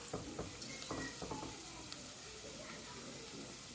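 Crushed ginger and garlic sizzle in a hot pan while being stirred, a steady close frying hiss with a few scraping stirs early on and softer sizzling afterward.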